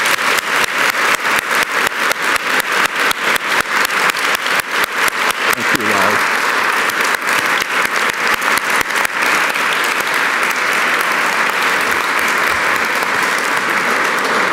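Sustained audience applause fills a hall at South Dakota's 125th statehood anniversary celebration, a dense, steady roar of many hands clapping for a team, loud and unbroken for the whole stretch with no talking over it.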